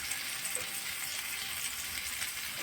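Halwa fish with masala coating frying in oil in a pan, a steady soft sizzle that holds evenly throughout, fairly quiet and with no talk.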